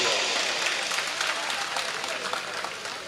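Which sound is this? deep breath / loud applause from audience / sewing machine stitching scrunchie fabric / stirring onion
loud applause from audience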